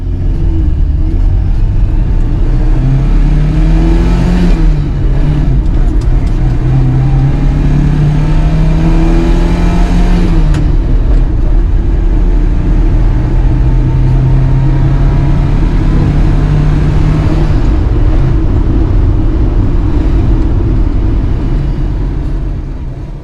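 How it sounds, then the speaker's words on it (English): A 1960s Fiat 124 Berlina saloon accelerates through the gears from inside the cabin, its engine droning loud and close with rising pitch that drops at each gear change, under constant road rumble. "Let's just take it up through the gears one more time."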